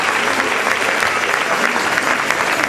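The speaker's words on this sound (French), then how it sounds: "Vos applaudissements s'il vous plaît" Dense, steady audience applause at a ceremony in Portugal, filling the whole stretch at a constant level with no pauses.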